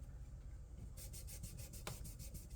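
Cloth rubbing polish off the metal frets of a guitar neck during a refret, a steady close-up scrubbing in rhythmic back-and-forth strokes.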